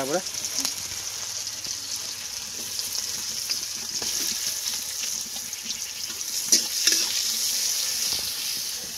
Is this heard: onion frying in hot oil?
yes